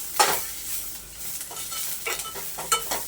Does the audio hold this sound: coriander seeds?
yes